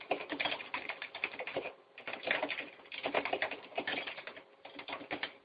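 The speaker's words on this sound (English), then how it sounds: "Some of these references I'm typing into the Facebook, Eric's Facebook thread" Fingers tap quickly on a computer keyboard nearby, a dense stream of clicky keystrokes in bursts with brief pauses between runs, heard alone without talk.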